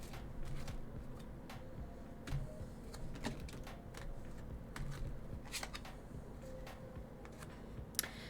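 Tarot cards are shuffled by hand in a steady run of soft riffling and papery flicks, close and quiet, with occasional sharper taps of the deck settling on a surface.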